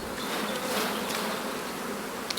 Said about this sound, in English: so I'm going to shake these bees off